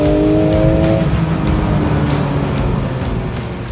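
A Porsche 911 GT3 RS supercar engine running loud and close, a steady throaty drone with a rising whine early on, continuous with no speech.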